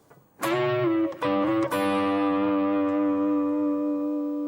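A short electric guitar blues fill of a few picked notes and quick bends, ending on a sustained ringing note that slowly fades, played alone and clearly.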